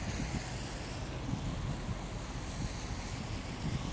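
Surf rolls in at a small surfers' beach on Rio's western coast near Morro dos Cabritos, heard from a distance as a steady, unbroken roar with wind buffeting the microphone.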